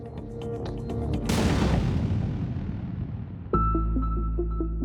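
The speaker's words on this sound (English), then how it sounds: "gunshots could be heard on the doorbell camera" Gunshots caught on a home doorbell camera at a murder scene: a sharp, loud broadband blast cuts in and decays into a long rumbling wash, with a second abrupt burst near the end, all with no voices.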